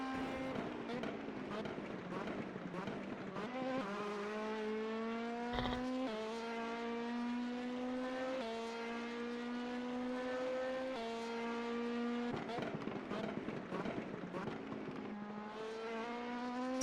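Onboard engine sound of an LMP2 race car lapping Bathurst in a sim endurance series, with loud, steady revs that climb and drop through gear changes over the whole stretch.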